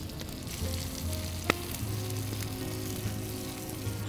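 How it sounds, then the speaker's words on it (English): Prawns sizzle and crackle steadily on a suspended grill over an open wood fire, a continuous frying hiss with a soft low hum and one sharp pop near the middle, heard close with no talking. "So you can listen how the prawns are dancing into our open fire party."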